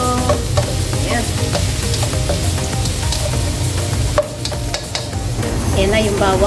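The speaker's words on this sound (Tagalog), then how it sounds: "Ayan na yung bawang at ang sibuyas" Garlic and onion sizzle loudly in hot oil in a pan for a cabbage stir fry, with a constant frying hiss and repeated scraping and stirring clatter of a utensil against the pan.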